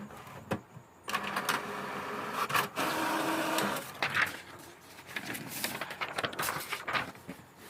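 An office printer connected to a notebook computer runs through a print job, with a steady mechanical whir broken by clunks and paper-feed rattles over several seconds, close by, with no talking.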